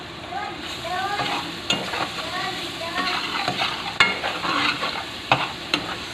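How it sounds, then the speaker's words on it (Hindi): Crushed garlic goes into tomatoes frying in a pan for a guar bean curry, with a steady sizzle and spoon stirring scrapes, plus a few sharp clinks against the pan. "अब इसमें कुटा हुआ लहसुन ऐड होगा"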